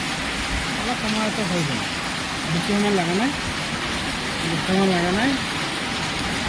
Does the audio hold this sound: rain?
yes